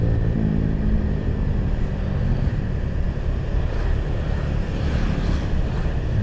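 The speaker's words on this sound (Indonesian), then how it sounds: "Tumben ini ya, suara angin di telinga saya cukup kencang ini." Strong wind roar buffets the rider's microphone on a Honda Vario 125 motorcycle ride along a mountain route toward Bromo, continuous and loud throughout, with no talk.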